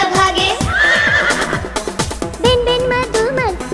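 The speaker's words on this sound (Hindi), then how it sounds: "हिन हिन करता घोड़ा भागे" A horse whinnies loudly in a Hindi children's rhyme song, its wavering neighs rising over bouncy music with a steady clip-clop rhythm.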